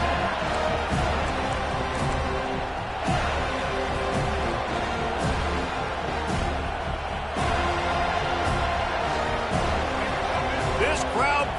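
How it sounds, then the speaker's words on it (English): A large stadium crowd at a Florida vs. Florida State college football game roars steadily throughout, a constant wash of cheering noise beneath a commentator talking. "This crowd bringing the energy and noise early."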